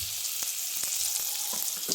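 Butter and a little oil sizzling in a hot kadai, a steady close frying hiss with a few soft clicks and light stirring taps, no voices.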